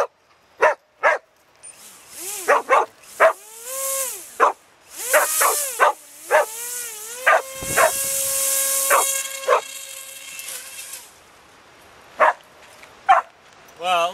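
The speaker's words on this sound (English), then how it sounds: "The dogs love chasing us." Dogs chasing a low-flying FPV Raptor drone bark loudly and repeatedly close by in sharp, irregular bursts, over a sustained high motor whine from the drone.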